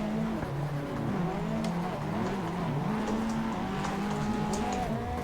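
Simulated car in the Assetto Corsa driving game braking during drift practice, with a steady engine drone, shifting engine pitch and faint tyre scrub running throughout, no talking.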